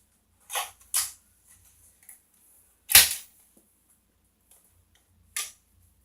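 Toy Nerf blaster fired during a backyard Nerf war, giving sharp snapping pops: two close together, a louder one near the middle and a final one, each short and dry, with quiet gaps between and no talk.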